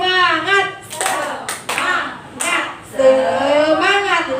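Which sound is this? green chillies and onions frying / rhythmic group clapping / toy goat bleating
rhythmic group clapping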